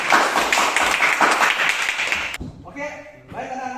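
A class of students applauds group 1 during a school lesson, a dense burst of clapping that lasts a couple of seconds before cutting off into a teacher's speaking voice.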